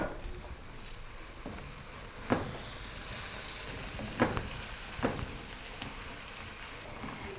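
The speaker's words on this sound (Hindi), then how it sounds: "इनको हम मसाले में भून लेंगे।" Whole spices (bay leaf, mace, star anise, cardamom, black peppercorns and cloves) frying in hot oil, a steady soft sizzle with a few sharp pops, fairly quiet and with no voices.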